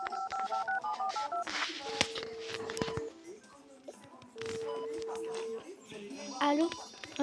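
A phone is dialed in a hospital room, with short bursts of keypad tones in quick sequence, then a longer ringing tone, heard close and clear amid a few spoken words.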